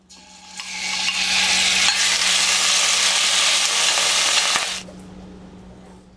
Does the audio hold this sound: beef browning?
yes